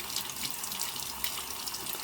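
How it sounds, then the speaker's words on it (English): Lukewarm tap water runs steadily into a sink while a turkey egg is rinsed during pysanky decorating, a close, even hiss of flowing water with no voices. "I'm going to use some lukewarm water and kind of rinse it all off there"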